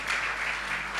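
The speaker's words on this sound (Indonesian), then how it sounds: "Tepuk tangan yang meriah bagi Tuhan kita." A church congregation clapping during a praise and worship service, a short burst of dense, lively applause at steady loudness.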